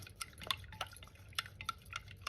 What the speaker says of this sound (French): je vais les touiller un petit peu